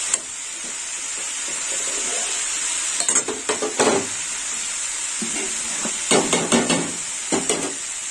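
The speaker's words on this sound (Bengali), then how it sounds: "বাঁধাকপিটা জল ঝরিয়ে নিয়েছি, নিয়ে একটু ঘিয়ের মধ্যে একটু নাড়িয়ে চাড়িয়ে জলটা, বাকি জলটা শুকিয়েও নিচ্ছি" Drained cabbage is stirred in hot ghee, hissing and sizzling steadily up close. Spatula scrapes and stirring sounds come in short bursts over the constant frying.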